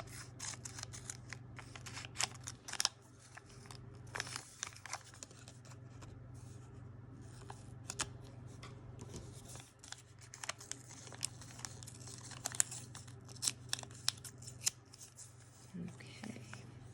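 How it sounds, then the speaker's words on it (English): Scissors snipping and trimming paper for a junk journal, with repeated crisp cuts and paper rustling over a steady low hum, close by and fairly quiet, with a voice talking now and then. "I think I'm gonna have to use my scissors on this one"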